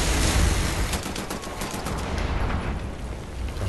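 Rapid gunfire from dual-wielded guns in Wolfenstein: The New Order rattles in a dense, loud burst of overlapping shots, continuous for a few seconds.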